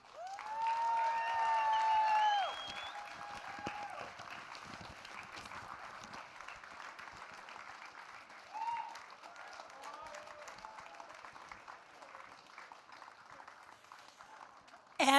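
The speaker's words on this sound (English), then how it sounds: "From China, keep your applause going for Mr. Zhang" Audience applause at the Microsoft Excel World Championship 2025 finals, loud and dense for the first couple of seconds, then settling into a softer, steady patter with a voice over the crowd.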